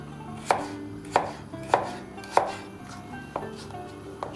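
A knife chops potatoes into finger-shaped pieces on a cutting board in an even rhythm, seven or eight sharp knocks about half a second apart, close and clear.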